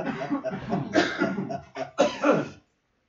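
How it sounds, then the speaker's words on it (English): A person coughs repeatedly, about five sharp bursts in uneven succession, close and fairly loud, ending in silence. "5 coughs."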